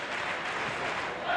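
Home crowd roaring and applauding during the fifth set of a 2011 college men's volleyball match, BYU hosting Hawai'i, a steady dense wash of cheering that swells slightly at the end.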